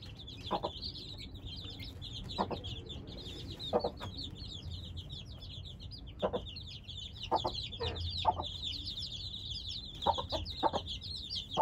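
A broody hen clucks steadily beside her brood of about ten chicks, whose high peeping runs almost continuously underneath, with short louder cluck bursts recurring every second or two, fairly close.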